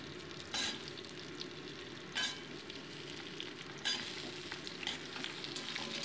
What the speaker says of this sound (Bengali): দিয়ে এটাকে আলুটাকেও আমি মোটামুটি উচ্ছের সাথে তাও ভেজে নিচ্ছি।